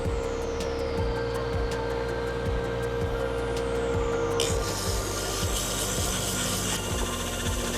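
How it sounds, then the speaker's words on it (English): A thunderegg stone is polished on a homemade lapidary machine, giving a steady close motor hum with a rhythmic thumping beat and a continuous rubbing grind that turns rougher and louder partway through. "Now I'm just removing the previous polishing pad grit marks."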